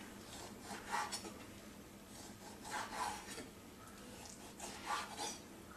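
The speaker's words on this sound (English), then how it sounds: "I'm going to cut at an angle across the grain. Okay, until all the meat's cut up." A knife slices steak thinly at an angle across the grain, giving three or four soft rasping strokes in a quiet, close setting with faint background hiss.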